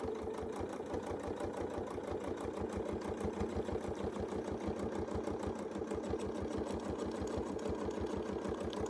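A sewing machine stitching through a quilt while following a Westalee circle template, its needle pounding in a fast, even, steady rhythm from start to end, close and moderately quiet, alone without talk.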